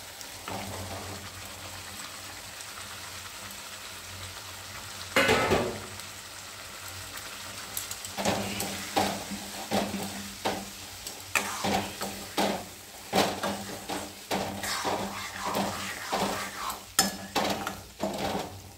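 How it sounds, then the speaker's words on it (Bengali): Kidney beans tipped into a pan of sautéed masala in a home kitchen, a soft pouring rush followed by repeated scraping and clinking of a spoon against the pan over a low sizzle. "কষানো হয়ে গেছে, এবার আমি রাজমাটা দিয়ে দিচ্ছি।"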